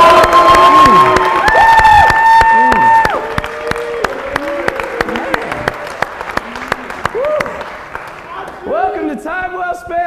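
A large live crowd at a season finale event cheers, whoops and claps loudly and close, with shouted voices over sustained applause that gradually settles into scattered clapping and chatter.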